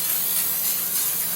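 A continuous close hiss of degreaser spray aimed at clutch parts from a Honda XR650R with a Hinson clutch basket, loud and steady through the whole burst.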